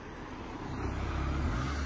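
A car on a road heard as a steady low rumble that grows slowly louder as it approaches, with no voices over it.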